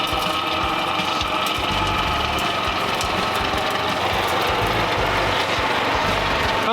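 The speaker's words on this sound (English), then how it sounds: "It is a verticutter." A Swardman Edwin 2.0 verticutter runs on a lawn, a loud, steady mechanical drone with a rapid rattling churn and a constant engine hum, heard up close with no talk.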